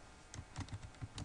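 Rapid, uneven keystrokes on a computer keyboard while entering text in a school lesson-planning system, with about a dozen close, crisp clicks in irregular bursts and no talking.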